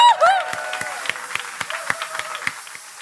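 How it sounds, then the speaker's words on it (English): Audience applause at a crypto conference stage, opening with a cheer, then thinning into scattered, distinct claps at a loose rhythm under a faint room tone. "Please give them a massive applause."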